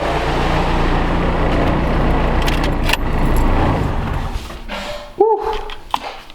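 A Miata with a swapped Ecotec engine idles loudly and then shuts off, its rumble fading out before a brief jingle of keys near the end, with a dog's whimper faintly in the background.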